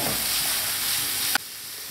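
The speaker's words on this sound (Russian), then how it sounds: "Добавляем морковь. Тоже обжариваем слегка." Carrots and onions sizzling in a frying pan, a steady loud hiss with a brief clink near the end, after which the frying continues slightly quieter.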